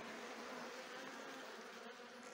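Honeybees swarm around an opened beehive in a dense, steady buzzing hum that fills the whole moment at an even, fairly close level.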